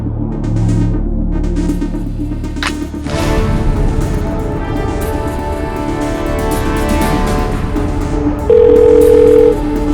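A steady telephone dial tone hums throughout while a call is being placed, loud and continuous with a slight shift partway through and a brief extra tone near the end; no one speaks.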